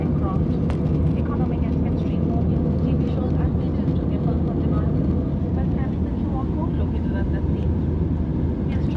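Etihad Airways A320 airliner taking off, a loud, steady broadband cabin roar of engines and airflow throughout, with faint voices underneath.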